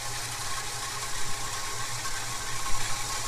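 A Holden HK Premier wagon engine fitted with a Holley carburetor idles steadily, a continuous low rumble with a faint watery, pump-like hiss and slight uneven pulses, no talking over it.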